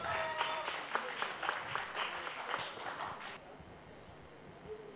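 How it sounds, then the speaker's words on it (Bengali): A small audience claps for a speaker at a trainee presentation event in a brief burst of indoor applause. The clapping stops abruptly after about three seconds, leaving quiet room tone. "আব্দুর রহিম ভাইয়ের জন্য একটা করতালি হবে।"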